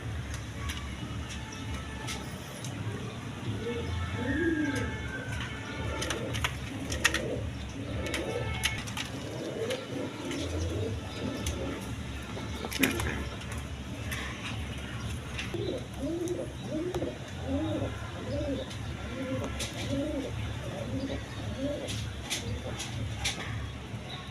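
Pigeons kept for sale coo repeatedly in soft, rhythmic bursts amid a busy background hum, with someone talking over them and occasional sharp clicks.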